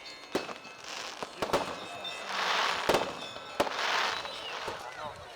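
A small fireworks display at an open-air gathering, with several sharp bangs spaced a second or so apart and crackling hiss bursts between them, carrying over a murmuring crowd.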